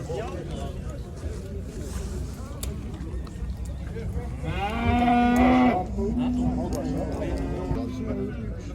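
A cow with a calf lowing at a Kyzylorda livestock market: one long, loud moo rises midway through, over a busy background of murmuring voices and shuffling animals, with people talking nearby.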